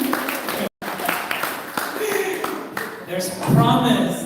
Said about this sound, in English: applause for the volunteers